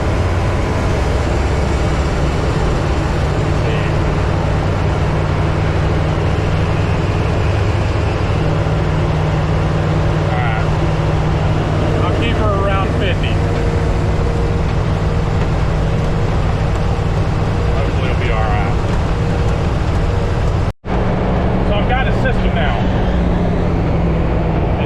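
A government auction Humvee cruises along the road at highway speed, its steady engine drone and tire roar continuous beneath someone talking, with smooth, barely noticeable gear shifts and a brief dropout near the end.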